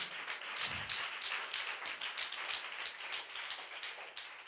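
A church congregation claps along during a service, many hands striking in a steady, fairly even rhythm at moderate distance, faint and continuous with no talking over it.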